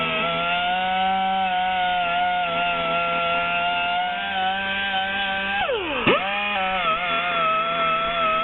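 A grinder works steadily against a wheel barrel, removing stick-on weight tape residue, a close, sustained whine with a brief sharp dip in pitch as the tool loads up, then recovering.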